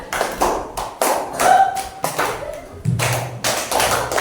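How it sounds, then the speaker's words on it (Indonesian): Classroom students clap for a group in several short bursts with pauses between, loud and close, with a faint voice and a brief tone in the background. "tepuk tangan untuk kelompok 3"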